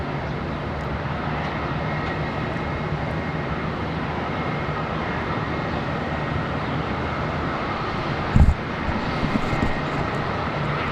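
An America West airliner passing at Charlotte Douglas airport, heard as a steady broadband jet roar that holds level throughout, with a brief sharp thump near the end.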